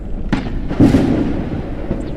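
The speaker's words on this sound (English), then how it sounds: "Lightning strikes the highest targets." A lightning strike in the Forever Skies video game: a sharp crack, then a loud, rumbling thunderous boom lasting about a second, followed by fainter echoing bursts.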